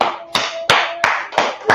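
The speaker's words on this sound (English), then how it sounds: "Clap it up for the class." An audience claps for a class in several sharp, loud bursts of applause separated by brief pauses, with no talking.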